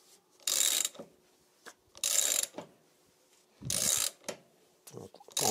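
A special lock nut on a Suzuki LT 50cc mini quad is tightened with a ratchet, giving several short bursts of close, crisp clicking separated by pauses, with a few small metallic knocks.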